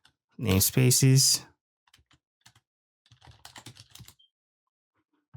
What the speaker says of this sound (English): we should be able to see it when we type in kubectl get namespaces